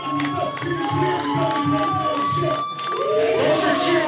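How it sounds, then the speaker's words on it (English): A live comedy audience roars with cheering and shouting, a crowd noise that stays loud throughout, briefly dips, then swells again, with overlapping voices and some whistling-like tones. "Those are cheers."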